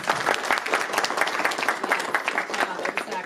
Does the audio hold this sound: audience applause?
yes